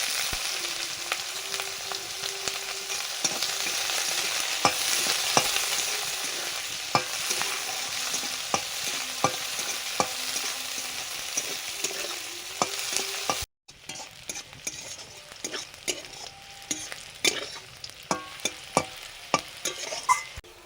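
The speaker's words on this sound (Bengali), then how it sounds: "এবারে কড়াতে নেড়ে নেব। পেঁয়াজ কুচি দিলাম" Chopped onions fry in a wok, a steady close sizzle broken by repeated scraping clicks of a spatula stirring them; partway through the sizzle drops quieter while the irregular stirring knocks continue alone.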